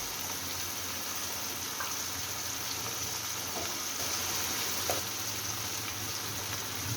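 Chopped onions frying in a pan for a prawn and okra dish, a steady even sizzle with a high hiss and occasional faint clicks from stirring, no voices.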